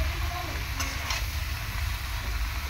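Boiled green jackfruit tipped into a hot pan and stirred, giving a steady, close sizzle with a couple of brief scrapes near the start.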